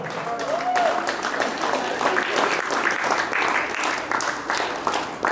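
A room at a volleyball club's preseason press conference fills with close, fairly loud applause, many hands clapping in a dense, sustained wash while a voice briefly speaks over it at the start.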